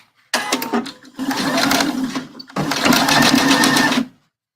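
A sewing machine runs a bra seam in two steady bursts of close, even stitching, separated by a short pause.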